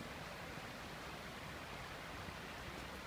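Stream water flowing in Karabük, Turkey: a faint, steady broadband rush of running water, continuous and even with no talk over it.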